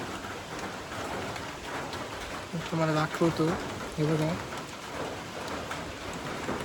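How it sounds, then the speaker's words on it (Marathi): Steady rain hisses throughout, close and constant, at a hilltop temple in a very quiet spot, while someone speaks briefly in the middle. "आता पाऊस पडतोय"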